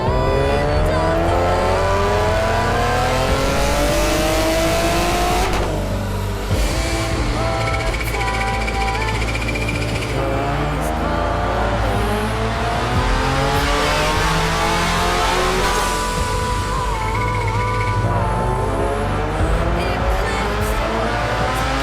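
A supercharged Nissan 370Z revs hard on a dyno, the engine climbing repeatedly through the gears in loud, continuous sweeps with supercharger whine, close and relentless throughout.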